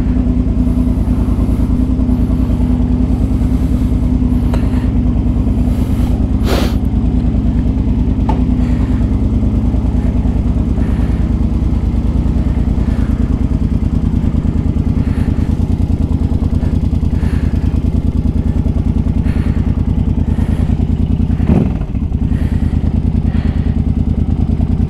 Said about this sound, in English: with these fuel injected bikes like this one here, you just turn it on and it's ready to go